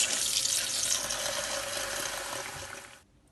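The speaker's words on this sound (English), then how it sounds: "I'm putting it in a sieve and I'm going to rinse it with cold water" Cold tap water runs steadily through a sieve holding cooked tapioca pearls, a continuous close hiss of rinsing that stops abruptly near the end.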